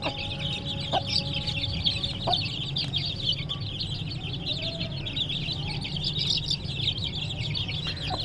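A hen clucks steadily among busy chick peeping, with bright high chirps throughout and occasional soft clucks, fairly close in a farmyard setting.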